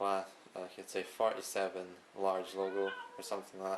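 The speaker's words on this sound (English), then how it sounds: "that's the cat in the background" A cat meows in the background, a few short calls partly overlapping steady close speech.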